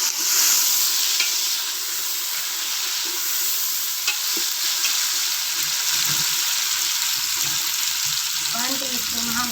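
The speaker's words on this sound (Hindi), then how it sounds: "अब मैं ये टमाटर और हरी मिर्ची डाल रही हूँ।" Tomatoes and green chilies hit a pan of frying garlic and onion, giving a continuous sizzling hiss with occasional stirring clinks and scrapes.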